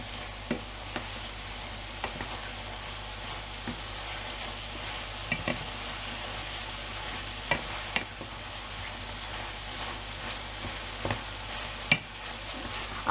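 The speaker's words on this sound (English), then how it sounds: "just give that a mix in and just carry on frying it up for about another 3 minutes" Steady sizzling of cowboy pie filling frying in a pan, with occasional sharp clinks and scrapes of stirring scattered throughout.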